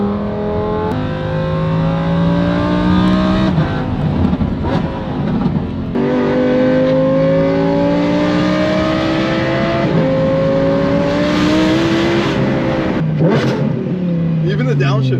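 Lamborghini Huracan STO, engine-swapped and fitted with a Valvetronic exhaust, revs hard and loud through repeated rising sweeps and shifts, its sound echoing off surrounding buildings as people talk over it.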